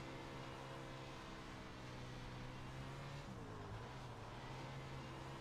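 A sprint car on a simulated dirt oval in the iRacing game, its engine droning steadily with layered harmonic tones and a brief pitch dip midway, a continuous moderately loud motor sound with no talking.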